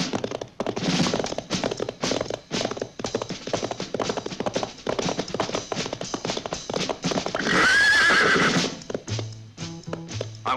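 Horses being ridden clip-clop in a steady, close rhythm of hoof beats, with a horse neighing loudly partway through and no talk over it.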